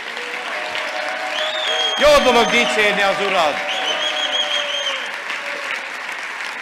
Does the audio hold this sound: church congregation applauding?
yes